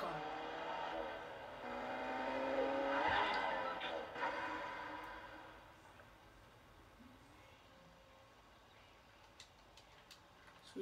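A car in the Fortnite video game drives past with a rising engine roar and skidding tires, swelling over the first few seconds and then fading into quieter game sounds, while voices are faintly present.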